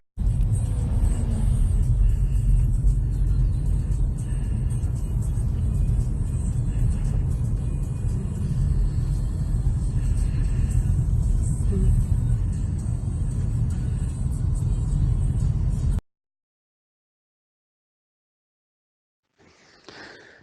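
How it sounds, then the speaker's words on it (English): A car driving along a road in England, where traffic keeps to the left, heard from inside the cabin as a steady low engine and road rumble that runs unbroken for about sixteen seconds, then cuts to silence and a brief return. "So I'm gonna go for a little spin and film a little video of how people drive"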